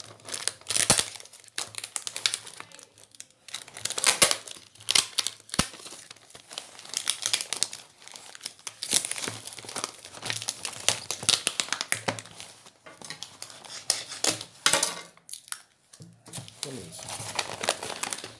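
Adhesive tape is pulled and wrapped around a bait box for catching stingless bees, with repeated crinkling, ripping and tapping noises up close while a person talks.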